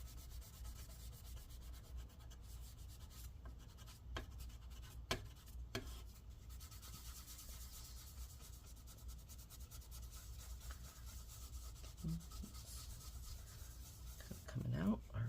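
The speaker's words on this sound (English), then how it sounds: "We're just gonna rub this." A laptop part from an MSI Stealth GS77 is rubbed clean with isopropyl alcohol during disassembly: quiet, continuous scrubbing and rubbing close by, with a few sharper scrapes and soft handling noises.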